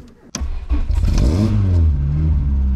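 Volkswagen Golf 2 engine started by push button fires up after a sharp click and brief crank, then settles into a loud, close idle with a rising rev.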